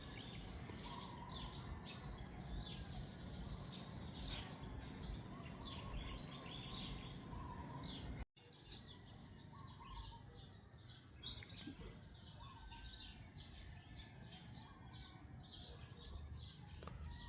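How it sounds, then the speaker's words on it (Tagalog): A busy dawn chorus of many birds chirping and singing together on a farm, layered calls at varied distances over a faint insect hum, with no voices. "daming ibon na kumakanta"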